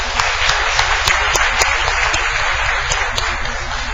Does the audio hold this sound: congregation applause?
yes